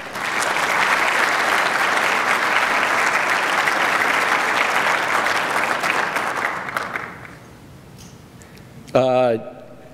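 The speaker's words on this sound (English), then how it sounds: "Please give him a warm round of applause." Conference attendees at a government forum give a warm, sustained round of applause that fades out after about seven seconds, followed by quiet room tone and a brief spoken voice.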